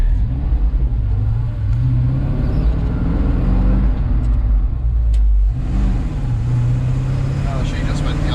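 Ford F350 truck with a 302 Cleveland engine driving, a steady low rumble that dips briefly and then rises again as it revs, with people talking over it.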